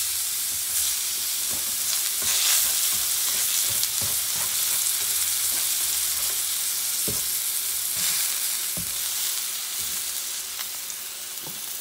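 Tuna sears in a hot cast-iron pan with a loud, steady sizzle and crackle close to the mic, broken by occasional spatters and light pops, with no talking over it.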